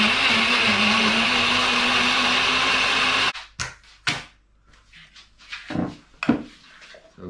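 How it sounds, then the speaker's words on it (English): A blender liquidises whole vegetables with a loud, steady roar that runs for about three seconds, then stops abruptly, followed by scattered clunks and knocks of handling the jug and kitchen items. "just put them in whole, liquidise it and pour it onto the dehydration tray"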